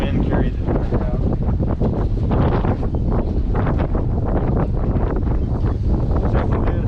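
Strong, steady wind roars across the microphone on an open Stabicraft boat at sea during hand-line fishing, a loud continuous buffeting with gusty rushes and no let-up.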